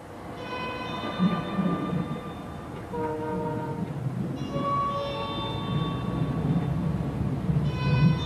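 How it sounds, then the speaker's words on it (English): A Heathrow Express train pulling into Paddington Station in London, heard as a steady rumble of the moving carriages beneath repeated sustained two-tone chime or horn-like signals, fairly loud and continuous, with no speech. "We will soon be arriving at Paddington Station"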